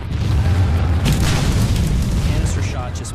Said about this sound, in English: The casing explodes, spraying the iron balls into advancing troops at hundreds of yards per second.